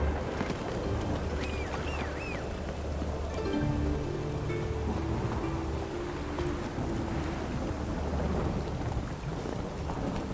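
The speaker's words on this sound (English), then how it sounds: "Looked like it would rain, and here it is." Steady rain pours throughout in the video game The Witcher 3, with a low rumbling undertone like distant thunder, and faint chirps and tones drift through the middle of the soundscape.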